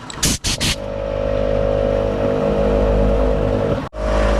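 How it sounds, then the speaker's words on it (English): A vehicle motor left idling outdoors on an Alaska overland camping trip, a loud steady hum and rumble after a couple of sharp knocks, briefly dipping before resuming. "I leave the motor running because it takes so much amperage"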